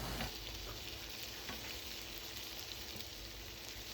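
Sausage and prepped vegetables sizzling in a hot pan, a steady, even frying hiss with faint stirring underneath.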